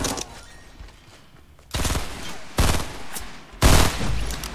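Burst-fire gunfire in Fortnite comes in three loud, close bursts spaced about a second apart, each a sharp crack of rapid shots with quieter game ambience between them.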